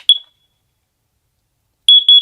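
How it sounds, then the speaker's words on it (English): A small carbon monoxide alarm inside a tent gives one sharp high beep, falls silent, then sounds a quick burst of three piercing beeps close by. "I also do have a little carbon monoxide alarm."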